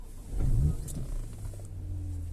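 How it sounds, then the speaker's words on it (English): A BMW 335i engine starts with a short starter whir that rises into a catch, then settles into a quiet, steady idle hum, heard close and alone. "We can start the engine."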